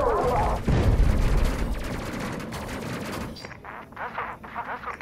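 Rapid bursts of spaceship gunfire in the sci-fi game Space Crew, a dense run of loud blasts with booming impacts that thins into sparser, fainter shots toward the end.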